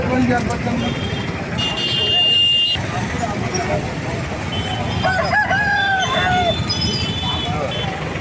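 A country rooster crows loudly and close at a busy poultry market, with hens clucking, traffic passing and people talking around it.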